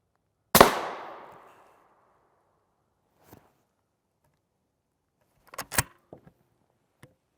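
A rifle firing Winchester M193 rounds at steel body armor gives one loud, sharp outdoor crack that rings and decays for about a second. Faint clicks and handling knocks come later.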